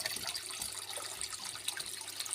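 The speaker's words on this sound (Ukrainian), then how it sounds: "Зараз будемо йому наливати водичку." Warm water is poured into a small home fish tank, a close, steady hissing splash with no voices.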